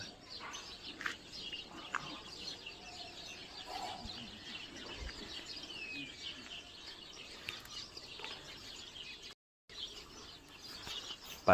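Young pigeons cooing and chirping outdoors, a steady soft twittering bed with scattered brief calls, fairly faint throughout with a short gap near the end.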